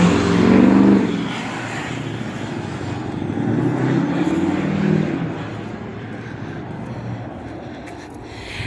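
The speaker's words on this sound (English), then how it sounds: "now there's a big black truck driving by" A big black truck drives past outdoors, a loud broad engine rumble that swells early, rises again mid-way and then slowly fades into a steady background roar.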